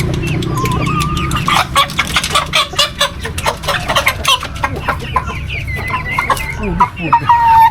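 Three-month-old chickens cluck close by in a rapid, uneven run of short calls, with a low background murmur underneath.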